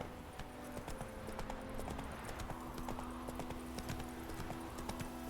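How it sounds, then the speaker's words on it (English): Horse hooves trot in the video game Witcher 3, a steady rhythmic clip-clop that runs throughout at close range over a constant ambient game background. "Whoa there, Roach"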